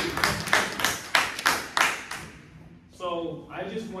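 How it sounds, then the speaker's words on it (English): A handful of people clap at an informal reading gathering, with roughly seven sharp, separate claps in the first two seconds before they fade out, followed by a short stretch of voices. "Clap it up for all my readers."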